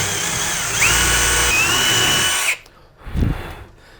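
A power drill whines steadily for a couple of seconds drilling a wooden guitar neck, then stops, followed by a short clunk and faint rustle.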